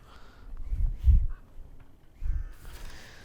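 In the Tick Tock video game, a bird gives out a few harsh, caw-like calls in short separated bursts, heard fairly close against a quiet background.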